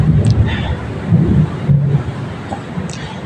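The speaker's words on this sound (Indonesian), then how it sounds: "Cuma suara petir doang." Low rolling thunder rumbles through a rainy night backdrop, a steady dull roar with a couple of swells, heard softly under a quiet, intimate setting.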